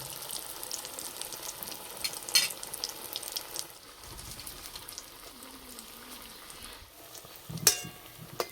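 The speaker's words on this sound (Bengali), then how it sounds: "এইভাবে বেসনে চোপাবো, তেলের মধ্যে দিয়ে দেবো।" Fish chops coated in gram flour batter dropped into hot oil, with a steady bubbling sizzle throughout and a few brief clinks of a utensil.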